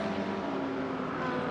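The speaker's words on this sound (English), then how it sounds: "there is Craig Hobbs having to come down the pit lane very cautiously indeed, trying not to do any collateral damage to the right rear corner of his McLaren" A McLaren GT race car with a cut right rear tyre rolls slowly down the pit lane at the 24 Hours of Spa, a steady engine drone close by under constant track ambience.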